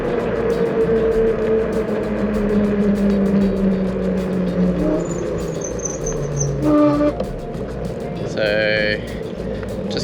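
Aostirmotor A20 electric bike climbing a hill at full throttle with no pedaling, a steady motor whine with wind rush throughout, a rider speaking over it.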